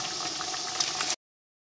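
Donuts deep-frying in hot oil, a steady close hiss and bubbling sizzle that holds evenly for about a second before cutting off abruptly.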